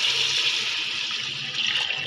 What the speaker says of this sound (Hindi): तकरीबन 6 गिलास इसके अंदर मैंने पानी डाल देना अभी इस तरीके से